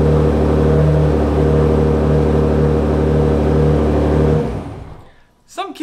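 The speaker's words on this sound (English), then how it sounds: "the car started" A Nissan GT-R engine, started remotely, idles with a steady low hum, then cuts off about four seconds in, leaving near silence with a brief faint rustle at the end.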